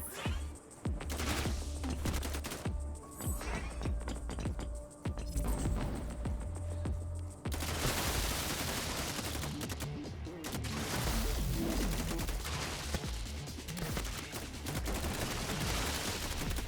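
Gunfire in the video game Dark Light: Survivor, heard as a continuous rattling fusillade of rapid shots and crashes that builds into a denser, louder barrage partway through.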